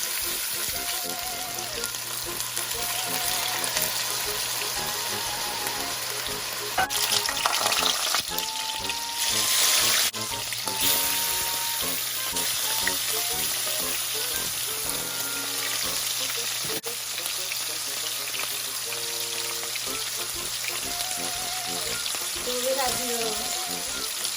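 Pork tocino fries in a pan, a steady close sizzle with occasional stirring and scraping throughout, while a person talks quietly over it now and then.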